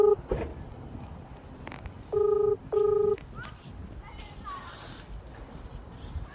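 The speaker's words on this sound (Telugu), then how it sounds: "విజయ్ ఫోన్ చేయి ఒకసారి." A telephone being dialed gives two distinct keypad tones in quick succession, clear and close, amid faint background noise and brief scattered sounds.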